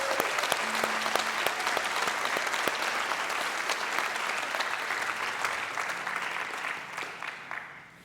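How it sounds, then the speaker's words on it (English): A congregation audience applauds in a steady, dense wash of clapping that holds evenly and then fades out near the end. "Let's give him another round of applause."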